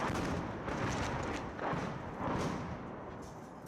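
Rocket fire and shelling at Donetsk airport during wartime combat, a continuous loud roar of blasts and rumbling thuds with several heavier surges, dense and close throughout.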